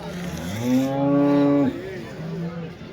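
A Jersey cross cow moos loudly and close at a busy weekly cattle market in Punganur, one long drawn-out call followed by a shorter, softer one, with faint crowd noise behind.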